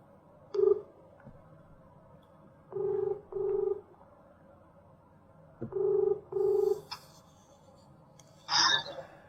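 A phone placing a return call gives paired electronic ringing tones at a steady interval in a quiet room, three sets in all, followed by a brief burst of sound at the end.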